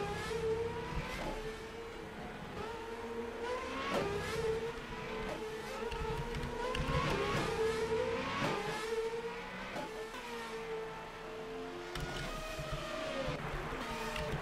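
Formula Renault race cars at a Belgian circuit stream past one after another, with high-pitched engines rising and falling through upshifts and Doppler sweeps in a continuous roar for the whole stretch.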